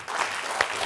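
Studio audience at a comedy quiz game show breaking into applause, a short dense burst of clapping at steady loudness under a second long.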